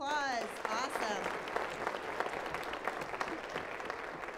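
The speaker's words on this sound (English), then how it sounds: "let's give them a round of applause" Applause from a school winter concert audience for Honors Orchestra students: a fairly quiet, even patter of many hands clapping, with a voice speaking over the first moments.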